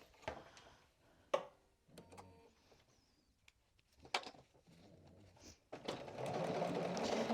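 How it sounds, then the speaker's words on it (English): A domestic sewing machine stitches back over an earlier seam line on a Cashmerette Hartwell vest, in short separate bursts with quiet pauses, then a longer steady run of stitching at the end. "stitching right over that previous line"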